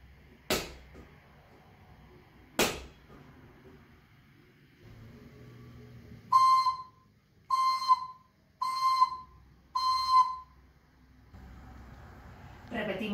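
A slide (piston) whistle plays a rhythm of four even, steady tones in a row after two sharp knocks. Faint voices and room sound surround it.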